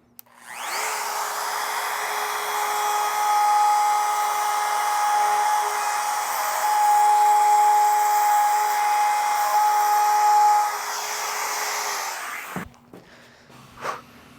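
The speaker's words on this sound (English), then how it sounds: "Now you can just run your router around it." A handheld router cuts a hole through a camper van wall panel along a scrap-wood guide, giving a steady high whine for about twelve seconds that rises and falls slightly under load, then spins down to clunks.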